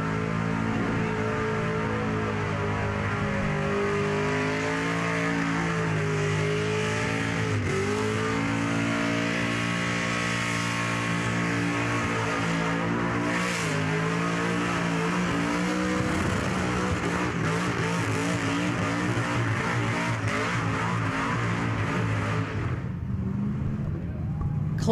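Burnout car on the Burnout Masters pad at Summernats 36, its engine held at a loud, sustained high-rev roar with wavering pitch and tyre squeal that ends in a sudden drop near the close.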